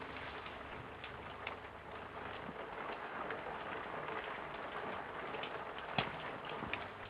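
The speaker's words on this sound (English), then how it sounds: "It's only the rain." Steady rain falls throughout, a dense even patter with occasional sharper drops and taps standing out, fairly close and continuous with no one speaking.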